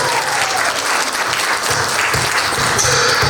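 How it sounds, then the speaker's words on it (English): Applause at a wedding reception, a dense burst of many hands clapping loudly and steadily for a few seconds, close and full with no talking over it. "Another round of applause for Kaylee and Zaylin Governor."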